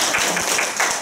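Audience clapping at the close of a talk on Saint Thérèse, a short burst of steady applause filling the room at even loudness.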